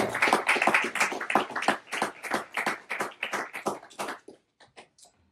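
A church congregation claps together in a dense, rhythmic burst that holds steady for several seconds, then thins out to a few scattered claps before stopping.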